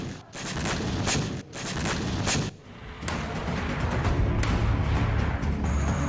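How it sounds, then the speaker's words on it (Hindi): Caesar howitzer artillery fires on Russian forces in Kherson: loud, dense blasts and booming bursts follow one another with barely a pause, leaving a heavy roar of rumble and debris noise between shots. "तस्वीरें देखिए किस तरह से सीजर होविट्जर तोप ने रूस का बड़ा नुकसान किया है।"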